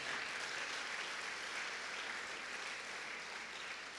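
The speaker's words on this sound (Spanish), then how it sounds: "Denle un aplauso fuerte al Señor." A church congregation breaks into dense, sustained applause, many hands clapping together in an even roar that fills the whole stretch without pause.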